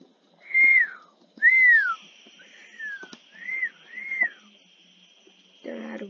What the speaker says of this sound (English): Don't know how to whistle perfectly.